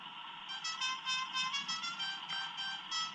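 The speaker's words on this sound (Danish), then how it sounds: "Den lød til at være horn." Horn sound from channel 4 of an RC model receiver, a Beier SFR-1 sound module, giving a faint electronic honk in a series of repeated pulses with a steady tone underneath.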